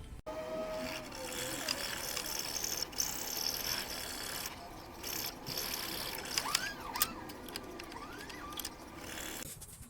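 A filter from a car's coolant system is cut open with a tool, producing steady scraping and ratchet-like clicking with a few sharper snips, close and fairly quiet throughout.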